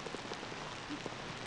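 Heavy rain pours down on a golf course, a steady, dense hiss of falling drops with faint scattered patters and no voices.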